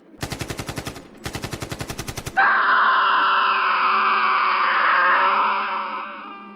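Two rapid bursts of machine-gun fire, each a fast string of sharp shots separated by a brief pause, then a long drawn-out wailing scream that slowly fades, set as a sound effect in a narrated horror story.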